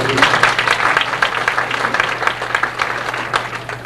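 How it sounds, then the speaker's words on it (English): At a band banquet, the audience applauds an award honoree with a lively, moderately loud burst of many hands clapping, individual claps audible within the crowd, tapering slightly toward the end. "you can applaud even though they're not here, please"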